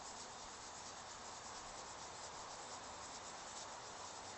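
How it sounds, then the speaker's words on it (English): Sandpaper rubs in circular motion across a workpiece, giving a steady, unbroken scratchy hiss that holds at an even level throughout. "I sand the back side, and then I sand the front side."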